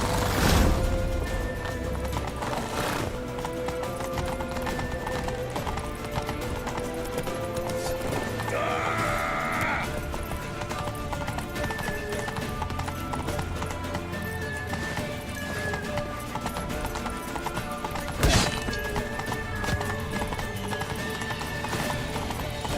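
Horse hooves clip-clop and a whinny sounds in The Witcher 3 video game, running steadily under a dense bed of game music and ambience, with a brief louder burst near the end.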